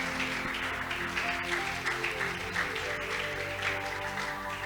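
Church congregation applauding during a worship service, a steady dense wash of clapping filling the room, close and loud throughout, with faint voices and a sustained instrumental tone underneath.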